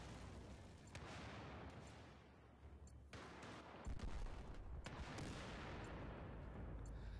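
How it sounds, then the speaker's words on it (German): Battlefield 4 combat at the Lancang Dam on Xbox 360: a dense barrage of gunfire and booming blasts rolls on continuously, with rapid shots and heavy low rumbles throughout. "Überall knallt's"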